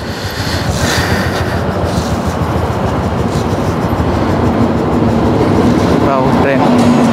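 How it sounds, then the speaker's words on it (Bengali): A train rumbles past near the Malda bypass beside flooded ground, a loud, continuous broadband roar that holds steady throughout, with faint voices mixed in. "ট্রেন"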